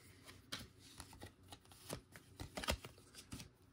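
Baseball trading card from a 2023 Topps Update blaster box being handled and slid into a plastic sleeve, heard as close, soft papery rustles and brief crisp flicks in an irregular rhythm.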